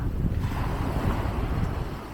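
Low, blustery wind buffeting the microphone at a beach in Nassau, Bahamas, with a faint wash of surf beneath; no one speaks.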